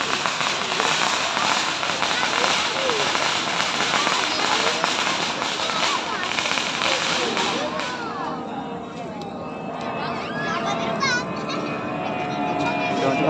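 Fireworks at a village festival in Kampung Labuh Tembaga burst and crackle in a dense, continuous barrage for several seconds, then give way to scattered pops and whistles as a crowd chatters and children's voices rise.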